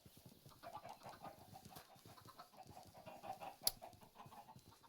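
Several chickens in Minecraft cluck in quick overlapping bursts, close and busy, with one sharper squawk near the end, with no talk.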